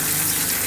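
Plain water gushes from a vessel into a pan of brinjal, a brief, loud and continuous pour heard close up with nothing else over it.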